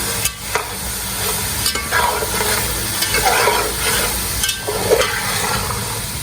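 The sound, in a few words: chickpeas frying and being stirred in a pan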